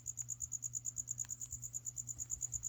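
Crickets chirp at night in a fast, steady pulsing trill that carries on without a break, moderately close and soft against a low background hum.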